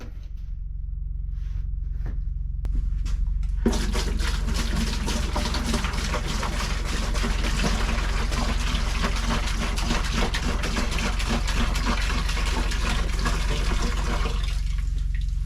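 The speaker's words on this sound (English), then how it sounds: "So we're going to go ahead and pour our vinegar in our bucket." Vinegar poured into a bucket, a steady splashing liquid stream that starts abruptly after a few faint knocks and runs continuously at close range before easing off near the end.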